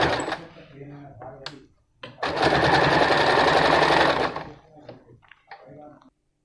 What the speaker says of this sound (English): I have finished stitching on one side. I am doing the same thing on the other side.